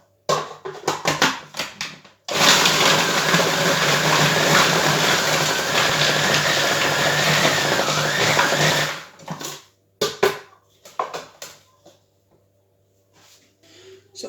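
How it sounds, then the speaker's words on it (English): A kitchen mixer blends chocolate and sugar for a flourless chocolate mousse cake, a loud steady whirring grind running about six seconds, framed by short bursts and clatter before and after. "putting the chocolate and the sugar all together in a mixer and giving that a good blend"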